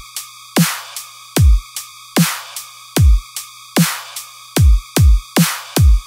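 Punchy electronic music loop with a repeating kick, snare-like hits and bright tonal chords in a steady rhythm, played alone before any bass samples are added, loud and dry with no talking.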